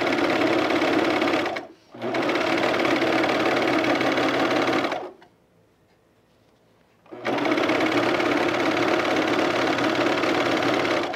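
An electric sewing machine stitches pajama bottoms in loud, steady runs, with a brief stop and then a longer quiet pause before the motor whirs up again.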